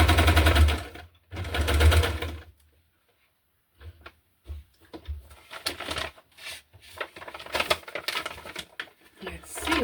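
A sewing machine stitches through the pages of a hardcover junk journal in short, rapid mechanical bursts separated by pauses, close by, with a voice talking and handling noises in between.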